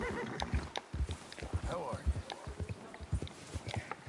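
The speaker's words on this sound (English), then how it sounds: "I think it's the heavy snow that makes the horse a little resistant to my steering." A horse plods through heavy snow in the Red Dead Redemption 2 video game, steady muffled hoof clops in a rhythmic gait with a brief whinny, close and moderately loud, with someone talking over it.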